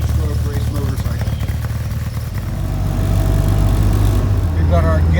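A freshly built car's engine idles steadily in a garage with a low, even purr and a two-stroke edge, loud and close throughout, its level rising slightly toward the end while a voice talks faintly over it.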